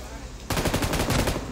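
Rapid automatic gunfire in the BGMI battle royale game erupts after a quiet half-second, then rattles on in a dense, loud, close burst of shots until the end.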